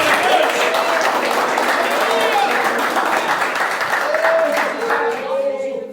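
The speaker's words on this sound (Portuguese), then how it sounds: "Receber o servo de Deus com as palmas bem fortes para Jesus." A church congregation claps loudly and steadily to welcome a preacher, a dense, sustained wash of hands. Voices shout and call out over the clapping throughout.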